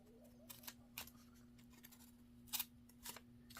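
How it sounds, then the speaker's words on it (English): Scissors snip paper for a junk journal in a quiet room, a handful of crisp, separate cuts spaced unevenly over a faint steady hum. "give this a slight trim along here"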